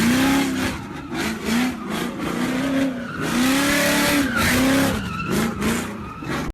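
Mustang doing donuts, tires squealing in long rising and falling wails over a loud, steady engine roar, close and continuous, with no talking.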